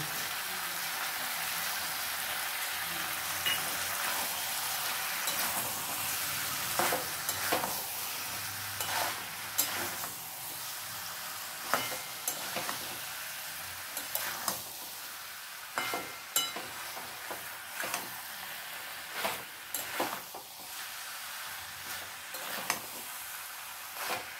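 Cashew, poppy seed and melon seed paste sautés in a pan with a steady soft sizzle, broken by scraping stirs and light clinks of the spoon against the pan.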